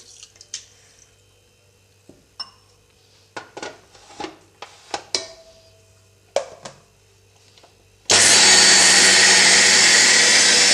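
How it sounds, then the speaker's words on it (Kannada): Rice goes into a mixer grinder jar with a little water and is ground coarse for idli batter: a few light clinks and taps, then the motor starts with a loud, steady, close whir that runs to the end. "ಈಗ ನಾನು ಮಿಕ್ಸಿ ಜಾರಿಗೆ ಅಕ್ಕಿ ಹಾಕ್ಕೊಳ್ತಾ ಇದ್ದೀನಿ ಅಕ್ಕಿನ ಸ್ವಲ್ಪ ರವೆ ಟೈಪ್ ರುಬ್ಕೊಳ್ಳಿ"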